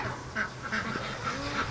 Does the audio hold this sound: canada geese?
yes